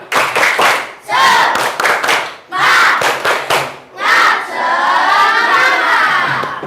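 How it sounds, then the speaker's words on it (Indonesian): A class of primary school children performs a rhythmic spirit clap, loud bursts of clapping and shouted chanting in repeated phrases with short pauses, ending in a longer sustained group shout. "tepuk semangat"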